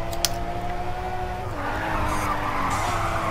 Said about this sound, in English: Let's just handbrake it.